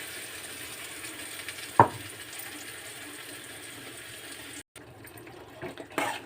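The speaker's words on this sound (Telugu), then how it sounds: "కొత్తిమీర, పుదీనా ఈ గుజ్జుని పచ్చి వాసన పోయేంత వరకు వేగనీయాలి" Coriander and mint paste dropped into hot oil for a herb rice dish, a low steady sizzle with a sharp burst as it hits the pan, then soft frying hiss and a few clatters near the end.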